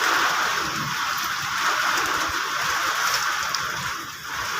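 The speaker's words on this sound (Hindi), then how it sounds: "चारों तरफ ऐसी हवा कि इतने तूफ़ान, इतनी हवा में मेरी भी आवाज़ दब गई" Steady rain and gusting storm wind roar continuously during a violent Delhi thunderstorm with hail, a broad hissing wash that stays loud throughout without any voices.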